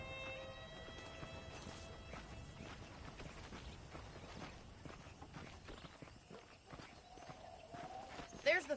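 Horse hooves clip-clop at a steady walking pace in the Red Dead Redemption video game, faint and low in the mix alongside other game sounds.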